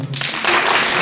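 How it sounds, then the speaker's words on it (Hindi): An audience at a cultural talent show breaks into applause, a dense burst of clapping that swells after a brief voice and fills the short moment at close range. "तालियां हो जाए।"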